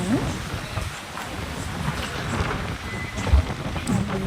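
Rain pours down steadily in a dense, hissing wash, with a low rumble underneath and no voices.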